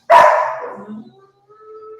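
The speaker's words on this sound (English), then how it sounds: "Sounds like dog getting stepped on." A small dog yelps once sharply nearby, a loud high cry that trails off into a faint whimper, in a home kitchen during brownie baking.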